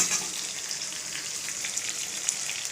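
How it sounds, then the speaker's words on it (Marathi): Sliced ridge gourd, garlic, cumin and mustard seeds fry in hot oil, giving a steady, close crackling sizzle with a few sharper pops and no voices. "काही दोडका तेलात परताय टाकला या, असा उभा चिरला, लसूण टाकला, जिरी मोहरी टाकली"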